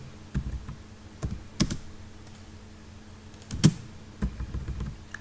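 Keystrokes on a computer keyboard during AutoCAD drafting: sparse, separate taps and firmer Enter presses spaced a second or so apart, close and crisp in a quiet room.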